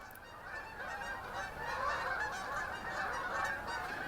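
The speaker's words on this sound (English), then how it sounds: "Those are geese." A flock of geese passing between ponding basins keeps up a continuous, overlapping chorus of honks, moderately distant and fairly faint, with no other sounds.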